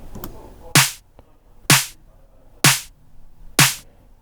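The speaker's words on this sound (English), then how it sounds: "We have these claps." Four sharp, crisp claps snap at a steady, evenly spaced pace, dry and close, with faint noise between them.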